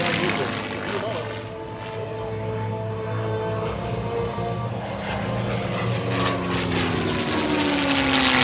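WWII P-51 propeller fighter passing at an air show, its steady loud engine drone shifting in pitch as it goes by, with an announcer's voice over the PA.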